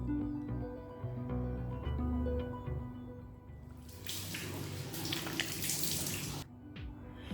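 Tap water runs steadily into a sink while a foaming green tea cleansing mask is rinsed off the face, with a louder splashing burst near the end.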